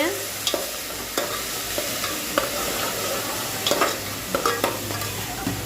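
Onion, tomato and chillies frying in oil for a spinach curry, with a constant close sizzle and regular clinking scrapes of a spoon stirring the pan, no voices.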